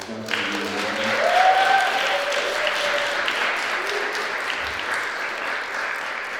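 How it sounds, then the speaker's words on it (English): An audience at a campus event breaks into steady, sustained applause that fills the room, with a brief whistle or cheer rising over the clapping near the start. "So please give a round of applause for her."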